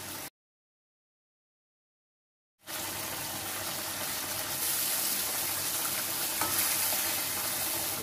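Pieces of Aar fish go into a simmering Bengali kaliya gravy. After a brief silence, a loud, steady sizzling and bubbling starts abruptly and continues without a break.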